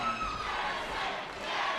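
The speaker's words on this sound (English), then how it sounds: "the Jesse crowd is coming out from his fans here at Perth Metro City. You can hear it loud and proud" A dense, loud crowd roars and cheers continuously for a fighter's fans at a Perth Metro City boxing event, a steady wall of voices with no pause.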